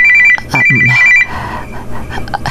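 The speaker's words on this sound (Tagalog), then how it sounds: "Ti cellphone bakit? Ada umawawag." A cellphone rings loud and close with a repeating electronic tone, a voice speaking briefly over it.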